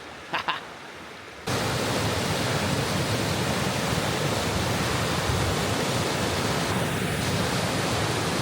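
A swollen New Zealand backcountry river rushes loudly and steadily during a wade across it. The roar starts abruptly after a brief quiet moment with a couple of faint knocks and then fills the rest of the clip.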